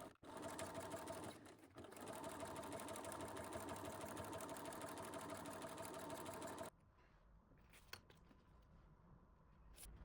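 A sewing machine runs a long, steady top-stitching pass along the seams of a handmade bike bag, loud and continuous for several seconds before stopping abruptly, followed by quieter handling noises.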